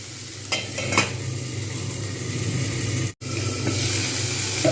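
Winter vegetables frying in a pan for vegetable fried rice, a constant loud sizzle with occasional stirring scrapes and clinks, no talking.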